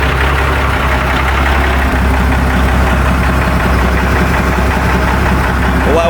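A Seddon Atkinson truck's diesel engine idles in neutral just after starting, a loud, steady low rumble with a faint knocking texture that runs unbroken from start to end.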